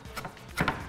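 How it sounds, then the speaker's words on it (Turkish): A sharp knife chops green pine cones on a board, a few light soft cuts followed by two firmer, louder chops near the end, close and without talk. "parçacıkları keskin bir bıçakla hafif hafif doğrayacağım."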